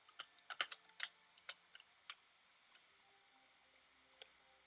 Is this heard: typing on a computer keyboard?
yes